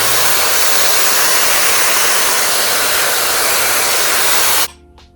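A Shark Flexstyle hair styler blows a loud, steady rush of air while curling hair, running continuously for several seconds before cutting off abruptly near the end.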